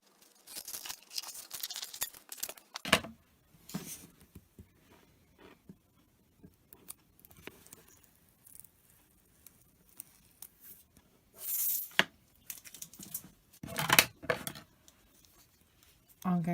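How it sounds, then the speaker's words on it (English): Scissors snip and trim around a sheet of self-adhesive vinyl, giving several short, close, crisp cutting bursts with quiet pauses between them. "I'm just going to get a pair of scissors and just trim round it so I can save this piece of vinyl"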